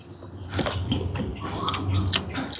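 Crunchy bites and chewing of bamboo shoots cooked in coconut milk with shrimp and saluyot, eaten outdoors; a close, continuous run of wet crunches and mastication with sharper snaps near the end.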